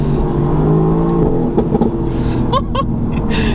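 Mercedes-AMG GT-R with the small M178 V8, a loud, close engine roar with sharp revs rising and falling, brief throttle blips in quick succession near the end.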